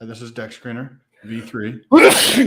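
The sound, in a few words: sneeze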